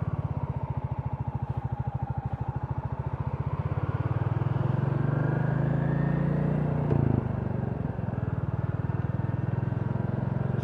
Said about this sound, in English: that way you might get a little bit more of a sound of the bike